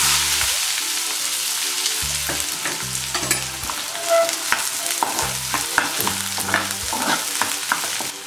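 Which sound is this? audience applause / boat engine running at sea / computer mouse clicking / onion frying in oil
onion frying in oil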